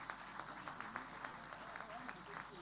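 Scattered audience applause for a senator at an NIESV dinner and award night, a steady wash of clapping at moderate distance, fairly quiet, with faint talk mixed underneath.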